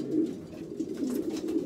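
Pigeons coo softly up close, a low throaty warbling that rolls on in short repeated phrases.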